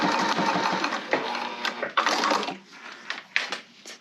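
A sewing machine top stitching a tote bag with a recessed zipper runs in a steady, close whirring burst, then slows into a few shorter stop-and-start runs.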